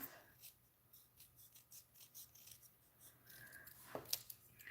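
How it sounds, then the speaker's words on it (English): Scissors cut paper in quick, soft snips during a stamping craft project, faint and close, with a sharper crisp cut near the end. "Then this just cut out with scissors."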